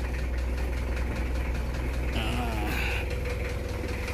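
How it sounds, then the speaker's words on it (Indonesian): Diesel engine of a 1999 Mitsubishi Kuda idling close by, a steady low rumble with an even, smooth pulse throughout. "Ini mesinnya halus ini"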